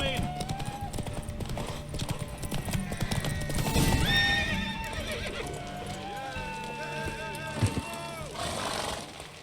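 Horse hooves clip-clop at a gallop during a race in The Witcher 3, with whinnies and neighs over game music and background chatter, the pounding steady and close throughout.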